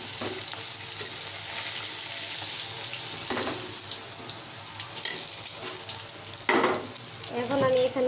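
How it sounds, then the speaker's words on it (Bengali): Pangas fish fries in oil in a pan, giving a steady, loud, close sizzle throughout with occasional stirring scrapes and clinks, and no voices. "এই যে দেখতেই পাচ্ছেন মাছগুলো ভাজা হচ্ছে।"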